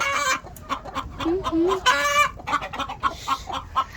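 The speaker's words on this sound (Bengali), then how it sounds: "এই রাওয়ার মোরগটা এসেছে কেন বলেন তো?" A rooster clucks and calls repeatedly in a farmyard where hens are laying, the short throaty notes close and clear, with a brief rising crow-like call partway through and some background chicken noise.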